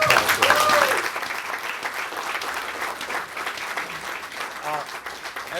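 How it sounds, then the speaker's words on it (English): An audience at a museum site celebration applauds, the clapping loudest at first and then fading into a steady, thinner patter, with a few voices briefly audible over it. "So I'd like to give Rodrigo a big applause."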